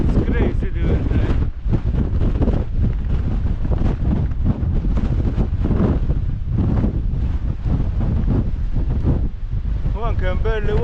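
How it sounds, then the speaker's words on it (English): Force 8 gale at Migra l Ferha on the cliffs of Malta roars into the microphone as loud, constant buffeting wind throughout, with a voice faintly heard at the end. "This is how bad the wind is there up here."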